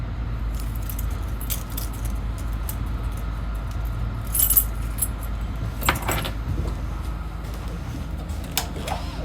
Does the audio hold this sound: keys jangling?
yes